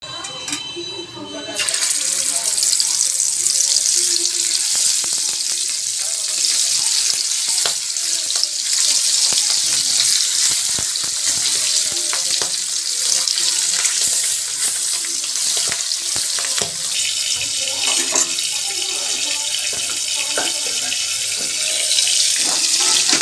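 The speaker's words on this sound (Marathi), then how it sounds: "गरम गरम तेलामध्ये फ्राय करायला लागलेली आहे" Steady loud sizzling of fish frying in hot oil on a griddle fills the whole stretch, a continuous hiss with faint crackles and occasional soft clatter.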